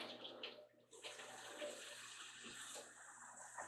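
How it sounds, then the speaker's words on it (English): Tap water runs steadily into a sink during handwashing in a home kitchen, a soft continuous splashing hiss that brightens partway through as the flow changes, with no talking. "now we're gonna wash our hands because we haven't rolled it completely"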